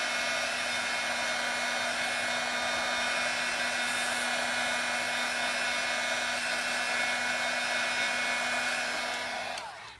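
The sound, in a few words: hot embossing heat tool blowing to dry a cone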